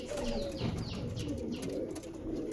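Steady low cooing from Chinese Teddy pigeons of a Pakistani line, with a few brief higher chirps layered over the rolling coos and faint background noise throughout.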